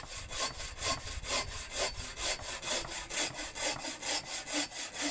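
Hand saw cutting firewood by hand, a steady back-and-forth rasp of rhythmic strokes, close and moderately loud, with no talking.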